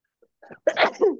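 One sharp, close sneeze from a person in a quiet room: a faint intake, then an explosive burst with a short trailing breath, no talking.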